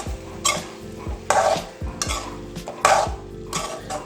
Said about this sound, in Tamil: இதை நம்ம கிளறி எடுத்துக்கணும்.